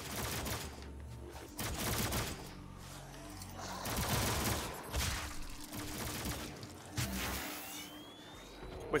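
Rapid gunfire from a gun in the video game Doom (2016) bursts repeatedly through dense, chaotic combat noise, with short clustered volleys over several seconds.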